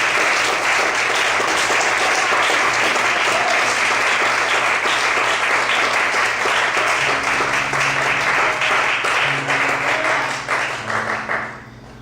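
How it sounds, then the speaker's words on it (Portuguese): A church congregation clapping for the Lord during an evening service, loud and sustained for several seconds, with faint sustained musical tones underneath, then thinning out and fading toward the end. "Desocupe a sua mão e aplauda ao Senhor nessa noite."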